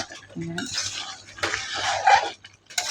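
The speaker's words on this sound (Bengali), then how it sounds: "এদিকে আস্তে আস্তে আমি মাংসটা কষাই নিতেছি" Meat being stirred and fried in a pot gives metal utensil clanks and scraping against the pot in short irregular bursts, with a faint background voice.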